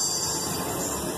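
Train sound effect for the railroad bonus in a Monopoly Millionaire game, a steady loud rumbling rail noise filling the short moment on its own, with no talk.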